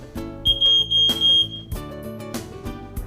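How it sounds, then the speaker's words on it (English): A residential smoke detector gives a series of short, shrill electronic beeps that run together for about a second, heard over soft background music. "There is a smoke detector in every one of our residences."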